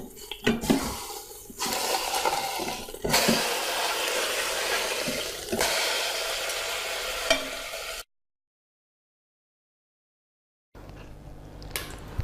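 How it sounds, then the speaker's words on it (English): A roast browns in an Instant Pot DUO60/80, sizzling steadily with occasional stirring knocks, then goes silent before the sizzle returns briefly. "You want to brown it about 5 minutes per side"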